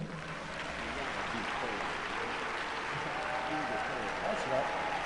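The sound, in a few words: audience applause for a pastor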